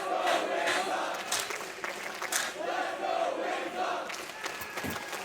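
A packed esports arena crowd at a Counter-Strike match on Inferno in Melbourne chants "Let's go, Wings Up" in a steady, rhythmic roar, loud and continuous with rising shouts.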